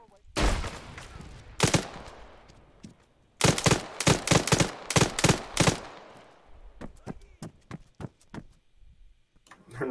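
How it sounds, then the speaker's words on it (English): Video game gunfire: sharp bursts of automatic fire and single shots crack loud and close in clustered volleys, then thinner, more distant shots follow with pauses between them. "Gunfire."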